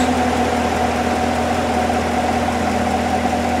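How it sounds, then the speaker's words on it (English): A 2015 Corvette Stingray engine idles steadily with a constant low rumble and hum, close and continuous, with no voices. "We can tell by the way it's idling"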